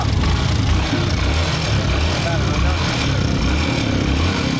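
A motorcycle engine running with Supremium oil, a steady low mid-pitched rumble that holds loud and even throughout, with voices talking over it.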